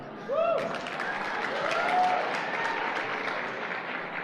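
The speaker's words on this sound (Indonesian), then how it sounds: "Oke Pak, tepuk tangan" Soft, fairly distant audience applause in a seminar room, a steady wash of clapping that starts abruptly, with a couple of brief whistles or cheers near the start.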